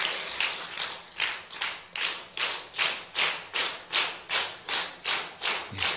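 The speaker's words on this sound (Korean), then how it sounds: "다시 한번 박수 칩니다. 힘차게 박수 칩니다." A church congregation at a youth service claps together in unison, roughly a dozen strong, evenly spaced group claps at a steady rhythm, fairly loud with no talking.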